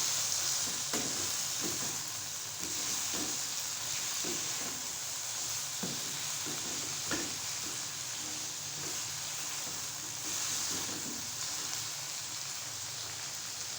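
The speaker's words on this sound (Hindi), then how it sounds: "अब हम इसको थोड़ी देर भूनेंगे।" Chicken and spices sizzle steadily in a pot while chicken pulao is being made, a constant broadband hiss with scattered soft clicks and scrapes of stirring throughout, no voices.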